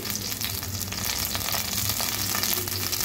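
Chopped onion sizzles in a generous amount of hot oil on the stove while cooking rui fish curry, a steady, close crackling hiss with no talk.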